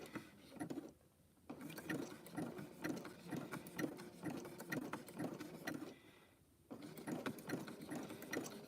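A sewing machine stitches slowly through a double thickness of fabric while a fabric teacup is being made, giving a steady close whirring with two short pauses, and no one speaks.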